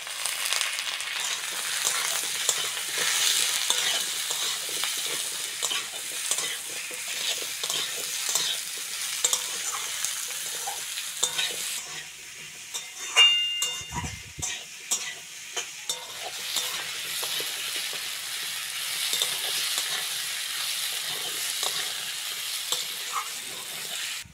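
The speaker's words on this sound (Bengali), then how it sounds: "পেঁয়াজ আর আলুটা ভালো করে ভেজে নিয়েছি" Onion and potato fry in oil in a pan with a steady, loud sizzle, broken by scraping stirs and clinks of a utensil, close up and continuous with no one talking.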